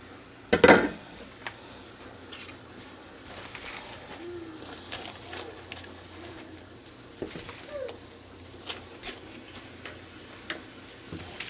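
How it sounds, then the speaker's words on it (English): Bobolo cassava batons set down into a metal cooking pot, one sharp clattering knock followed by scattered softer taps and clinks in a quiet kitchen, with faint bird calls in the background. "So we'll go ahead and put them in the pot."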